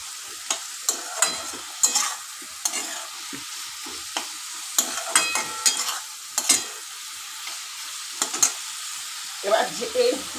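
Fried potatoes are stirred into a sizzling paneer masala curry. A soft sizzle runs underneath, broken by repeated scraping and knocking of a spatula on the pan in uneven bursts.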